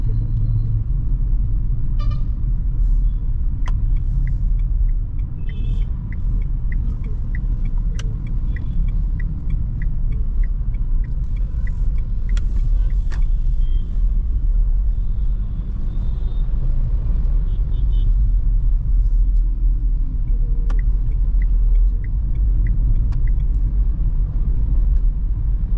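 Nissan Magnite Turbo CVT driving through dense Bengaluru traffic: constant loud low road and engine rumble with scattered horn toots and brief clicks throughout, no talk.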